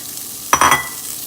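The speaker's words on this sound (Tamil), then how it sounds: "இதை கொஞ்சம் நேரம் ஃப்ரை பண்ணிக்கலாம்" In a pan of frying chutney ingredients, one quick scrape of a spoon cuts through a low steady sizzle, short and close.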